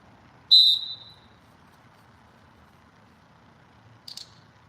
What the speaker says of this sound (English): So again, when we blow the whistle,